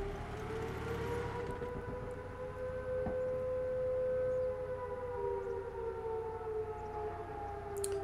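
A civil defense style air-raid siren in World of Tanks console gameplay wails steadily for about eight seconds, its rising and falling tone loud and sustained over low rumbling game noise, with no talk.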